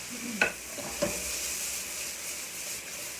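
Mushrooms stir-frying in oil in a wok, a soft steady sizzle with two brief clacks of tossing early on, then a continuous low frying hiss.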